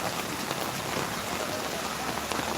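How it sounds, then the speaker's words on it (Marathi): Heavy rain pours down steadily on the road outside a station in Sanpada, Navi Mumbai, a dense continuous hiss of drops drumming on surfaces throughout, loud and close with no pauses. "पाऊस खूप जोराचा आहे"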